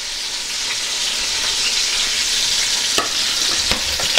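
Green chillies fry in a pan with a steady, loud, hissing sizzle throughout, joined near the end by a few sharp clicks and scrapes from stirring.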